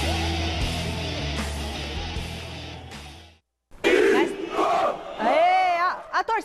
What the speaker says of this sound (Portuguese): Olha, a torcida do São Paulo canta.